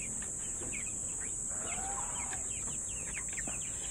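Hungry chicks peeping in a cluster of short, high chirps over a steady insect-like hiss, fairly faint and continuous throughout.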